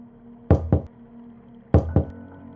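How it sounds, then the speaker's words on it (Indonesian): Two pairs of sharp knocks rap on a door, each pair a quick double knock, the second coming about a second after the first, close and clear in an otherwise quiet dormitory at night. "melainkan suara pintu diketuk"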